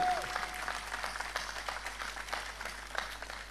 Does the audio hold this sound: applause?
yes